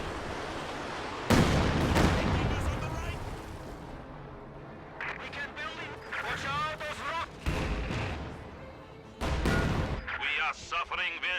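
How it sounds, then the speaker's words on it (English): Katyusha rocket artillery firing in Company of Heroes, with loud booming blasts and rushing launch noise amid other battle sounds, bursts recurring at irregular moments while a voice talks over the action. "Katyusha, meanwhile, firing here in the center."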